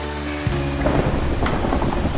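A sudden crack of thunder from lightning in Minecraft breaks in, followed by a heavy rolling rumble with rain-like hiss underneath.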